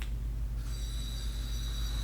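A SwitchBot curtain robot motor pulling existing curtains closed gives a steady low droning hum, with a thin high whine rising partway through, constant and close with no voices.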